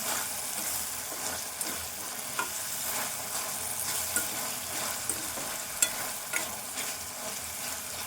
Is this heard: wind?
no